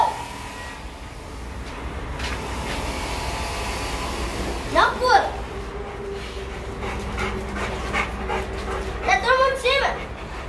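A dog plays close by, giving a few sharp barks around the middle and again near the end amid soft panting and whimpers, with people talking over steady background noise.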